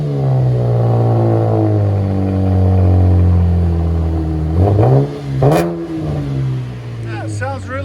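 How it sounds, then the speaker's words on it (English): A V6 Chevy Camaro engine revs loudly and steadily, its pitch rising and falling, then sharp throttle blips near the end, with people talking and cheering over it. "It's a V6 Chevy Camaro."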